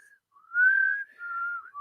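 One person whistles a short, clear tune of a few sustained, slightly wavering notes, close to the microphone and otherwise quiet.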